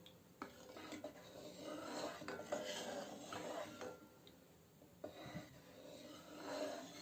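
A utensil scrapes and clinks against a bowl while yeast dissolved in water is stirred for homemade mozzarella, irregular soft scraping strokes with a few light taps, close and quiet.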